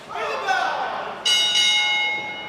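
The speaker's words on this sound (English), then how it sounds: "There's the bell." A bell rings to start a Pro Wrestling Ontario match, bright metallic strikes sounding twice with long ringing decay, under an announcer talking.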